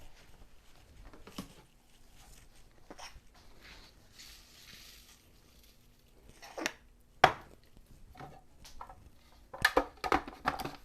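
Food processor pulsing cilantro with lime juice, heard as a few short, fairly loud whirring bursts separated by quiet gaps, with the strongest pulses toward the end.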